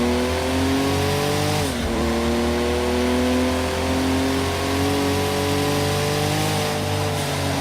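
A Porsche racing in Project Cars 2, its engine droning steadily with a continuous high tyre squeal and a brief dip in pitch partway through, loud and unbroken with no voices.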